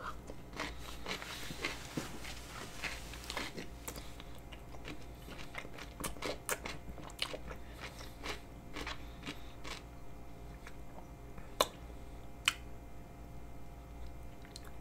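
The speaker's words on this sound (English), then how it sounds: "the first video back on my channel about me eating pickles" Crisp crunches and wet chewing of pickles, close to the microphone, recurring irregularly over a steady low background hum with no talking.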